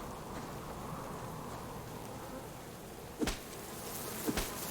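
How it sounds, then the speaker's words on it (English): Insects buzzing in the survival video game Subsistence, a steady low drone filling the background, with two brief sharp impact-like bursts near the end. "an axe isn't the best thing to go after those bees with"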